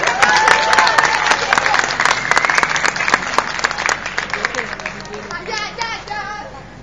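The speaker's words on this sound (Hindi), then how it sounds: "तालियां जोरदार होनी चाहिए।" An audience claps after a speech, a dense burst of applause that is loudest at the start and thins out over several seconds, with some chatter and a voice near the end.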